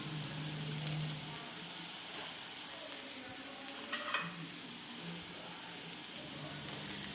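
Onions sauté in a pan with a soft, fairly faint sizzle and occasional light stirring scrapes, steady throughout with no talk.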